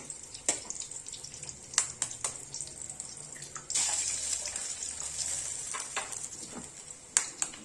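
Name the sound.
eggs frying with vegetables in a pan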